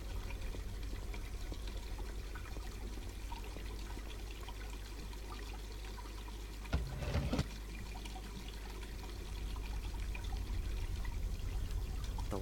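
Water pouring steadily from a lion's head fountain in the game Black Mirror 2: a soft, continuous trickling splash, faint and even, with one brief clunk partway through.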